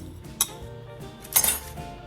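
Melted pink candy melts with shortening are stirred in a bowl, a spoon clinking and scraping against the sides in a couple of close, distinct strokes.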